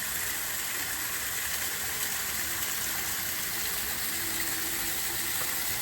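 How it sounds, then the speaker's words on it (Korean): A waterfall at a botanical garden on Ulleungdo pours nearby in a constant, dense rushing hiss, loud and unbroken, with no voices. "폭포 소리가 참 듣기 좋네요."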